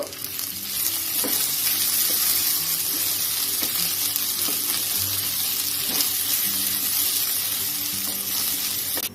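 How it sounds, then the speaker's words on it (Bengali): Rice sizzling and frying in ghee in a pan for pulao, a steady close crackle with occasional stirring scrapes and no talk. "চালটা আমি দু থেকে তিন মিনিট হালকা করে ভেজে নেব"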